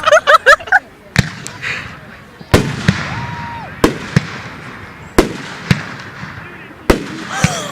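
Fourth of July fireworks burst in a string of sharp, loud booms at irregular intervals, each followed by a crackling decay, with a whistling rise in between and people talking nearby.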